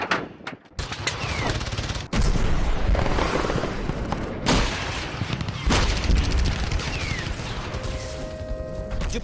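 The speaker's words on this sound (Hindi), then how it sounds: "अब ये नंबर 1 की जिम्मेदारी है कि वो जो डेटा है गन के ऊपर सही से लगवाए और इसको फायर करवाए" Artillery gun firing at a training range, a loud close blast followed by further heavy booming reports and rumbling echoes, with faint voices in the background.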